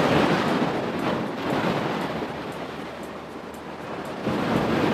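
Sea waves washing over a rocky shore at Gotheeswaram beach in Kozhikode, a broad steady roar of surf with gusty wind noise on the microphone, swelling louder at the start and end, no voices.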